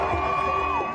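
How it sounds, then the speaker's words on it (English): A massive crowd packed into Hostage Square cheers loudly as freed hostages return home, a dense roar of voices with shrill whoops rising above it for a brief moment. "the massive crowd that packed Hostage Square all night erupts in cheers"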